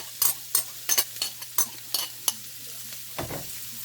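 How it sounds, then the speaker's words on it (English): Ginger, garlic and onion stirred in melted butter in a single pot, with a steady sizzle under repeated utensil scrapes and clinks against the pan, close and fairly loud, no voices. "with this butter we're gonna start with ginger, garlic, and onion to saute them"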